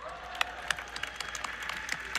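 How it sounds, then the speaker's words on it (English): Scattered clapping from a small group of people at a tech keynote, a patter of individual claps with a few sharper ones standing out. "Applauds herself."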